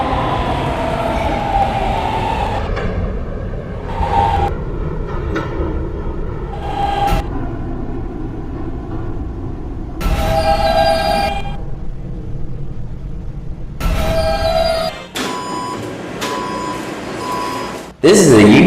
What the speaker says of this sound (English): This is the Union Turnpike bound K train.